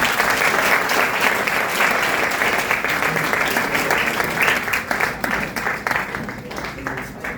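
Audience applause at a Pointe-Noire event fills the room, dense steady clapping from a sizable crowd that slowly thins toward the end.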